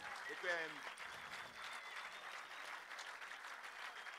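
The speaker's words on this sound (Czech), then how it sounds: "podle potlesku slyším, že jste spokojení." A concert audience gives sustained, even applause after a band's song, a dense but fairly faint clapping texture, with a voice briefly audible near the beginning.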